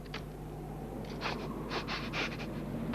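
Several quick, close sniffs in short bursts, a pause, then a rapid run of sniffs, over quiet background hum.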